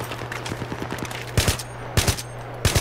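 Video game gunfire from a gun in Battlefield 3: a quick burst of light shots, then three loud, close double-shot bursts spaced about half a second apart, with no voices.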